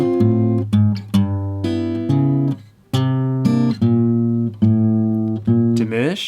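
Fingerstyle jazz blues on guitar, plucked chords over a walking bassline; a steady run of close, clean notes and chord stabs with brief decays and one short gap, with no talking.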